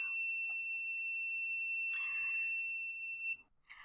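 A buzzer on a Raspberry Pi traffic light project with red, yellow and green LEDs sounds as two steady electronic tones throughout, with a brief broadband burst partway through and a clicky ending.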